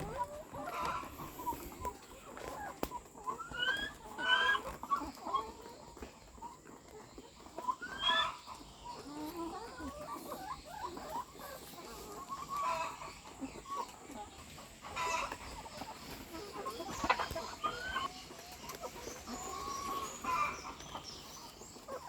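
Laying hens about fifteen weeks old cluck steadily in a flock, with short bursts of louder cackling and clucks rising over a constant background of fowl noise and an occasional crow throughout.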